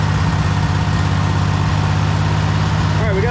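A small engine runs steadily after its second cylinder fires, a loud, close, even chugging idle with a low pulsing rumble and a faint voice near the end.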